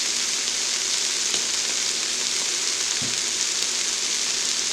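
Squeezed ginger sizzles in a hot pan as a seafood soup base is started, a steady loud frying hiss with a soft thump of food landing midway, no talking.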